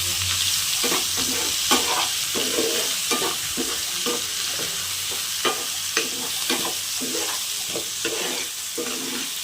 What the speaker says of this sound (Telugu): కొత్తిమీర కూడా వేసి బాగా కలుపుతాను.